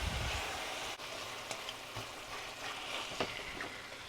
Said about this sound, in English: then we're going to let it simmer for about 4 or 5 minutes